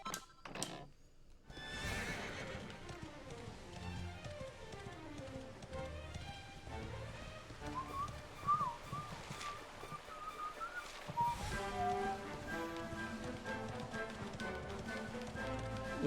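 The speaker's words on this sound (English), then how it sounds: "Look at this horse duck and weave." Horse neighing amid game music in Dragon Quest XI, a whinny rising over a busy orchestral score with light hoof clip-clop, steady and moderately loud throughout.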